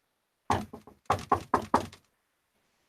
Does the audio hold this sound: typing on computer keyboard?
no